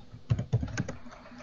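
Someone taps the arrow keys on a computer keyboard during a PowerShell console session, giving a handful of close, crisp clicks in an uneven rhythm before things go quiet, with no talking.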